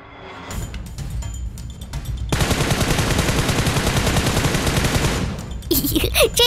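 Rapid automatic gunfire in a shooter video game, loud and sustained bursts building into a dense continuous volley, with a few sharper separate shots at the start and end.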